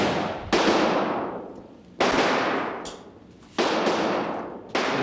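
Four sharp gunshots crack out during shooting practice, each loud report trailing off in a long echoing decay, spaced roughly a second and a half apart.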